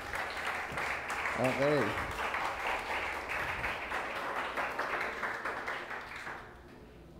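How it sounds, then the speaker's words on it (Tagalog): A church congregation claps steadily for Jesus as a broad continuous patter, with a brief spoken word early on, fading toward the end. "Yung pong the best na palakpak para kay Jesus."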